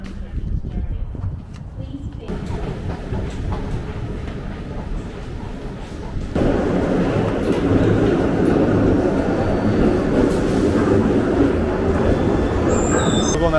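A Glasgow subway train rumbles along the rails, growing louder partway through, with faint wheel squeal over the steady roar and some indistinct voices.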